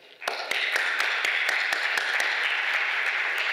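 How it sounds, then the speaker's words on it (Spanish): A crowd at a science talk breaks into steady applause that continues loud and even for several seconds, with individual claps standing out. "Un aplauso."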